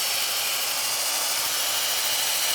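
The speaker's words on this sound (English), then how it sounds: "Again, I'm choosing power sanding." A power sander working the inside of a turned wooden mortar on a lathe, giving a steady hissing whir of abrasive on wood, constant and fairly quiet with no pauses or voices.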